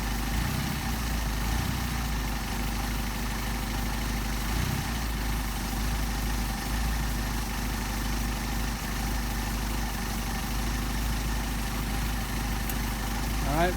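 A Mercedes 190SL engine on Solex carburetors idles at a steady, even rumble for the whole stretch, close and unchanging with no revving.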